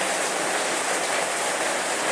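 Rain falls in a steady, dense hiss at a constant level throughout, with no voices and no breaks.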